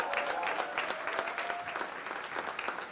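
An audience in Michigan applauds local election candidates at a political event, producing a fairly faint but steady spread of clapping with a brief tonal whistle or cheer near the start.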